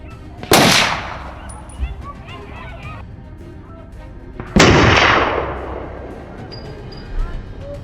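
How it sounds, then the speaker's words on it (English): Two sharp, loud gunshots ring out about four seconds apart during a wild boar hunt in snow, each followed by a long echoing decay across open ground. "The gunfire shattered the silence."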